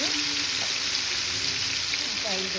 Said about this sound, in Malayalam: ഓയിലൊന്ന് നന്നായി ചൂടായി തിള വരുന്ന സമയത്ത് നമുക്ക് മാറ്റി വെച്ചിരിക്കുന്ന പ്രോൺസ് അതിലേക്ക് ഇട്ട് കൊടുക്കാം